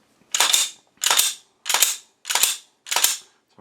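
A Saricam S19 pistol fires five sharp shots, loud and close, at an even pace of roughly one every 0.65 seconds, and each crack decays quickly into silence before the next.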